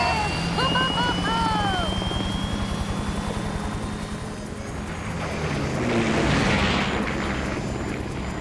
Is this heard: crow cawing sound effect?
no